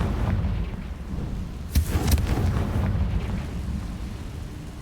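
Confringo fire-spell blasts in Hogwarts Legacy, a couple of sharp booming explosions near the middle over a low rumbling background.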